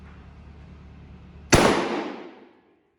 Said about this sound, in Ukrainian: Стріляти будемо дріб'ю з відстані 20 метрів.